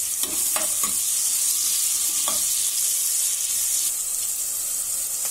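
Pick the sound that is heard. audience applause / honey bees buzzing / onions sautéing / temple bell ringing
onions sautéing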